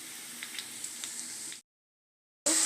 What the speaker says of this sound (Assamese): কলডিল চব একেলগে ভাজি আছোঁ